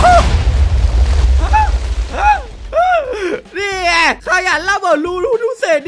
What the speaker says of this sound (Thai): ระเบิดโคตรแรงเลย